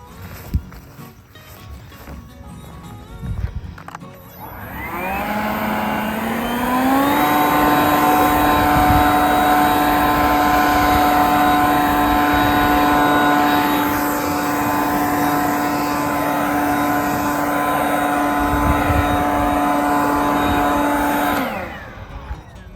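A gas leaf blower starts up after edging a lawn, revving to a loud steady drone that holds for about fifteen seconds before cutting off, close by with no talking over it.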